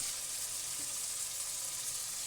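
Eggs, courgettes and smoked bacon frying in a pan over medium heat, a steady, even sizzle with a bright hiss throughout, close and constant, no talking.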